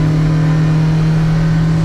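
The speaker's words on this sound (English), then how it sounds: "Hits the rev limiter right there." A Yamaha F115 outboard motor on a 2024 Hewescraft boat revs hard and holds against its rev limiter, a loud, steady engine drone with a strong low hum lasting under two seconds.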